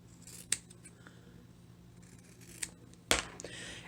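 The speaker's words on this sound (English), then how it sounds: "so we're going to clip the corners" Scissors clipping the corners of a sewn fabric thread-catcher bag, heard as three sharp snips spread apart in a quiet room, close by.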